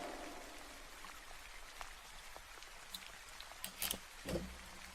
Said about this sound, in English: Which one is the rain sound?